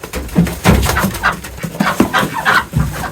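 Ducks and chickens in a backyard flock quack and cluck in a busy, overlapping chorus of short, close calls, loud and continuous without any talking.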